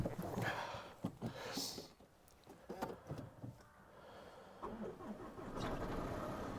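A car engine is cranked and started, with uneven churning bursts and clunks that settle into a rough idle, heard close and moderately quiet.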